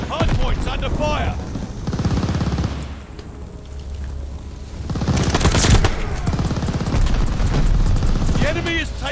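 Call of Duty: Vanguard multiplayer firefight at a hardpoint, with rapid bursts of machine-gun and rifle fire rattling in waves, some booms, and a game announcer's voice cutting in over the shooting.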